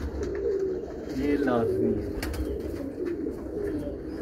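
Pigeons coo steadily in a breeding loft, soft throaty calls overlapping close by while someone talks over them amid general room noise.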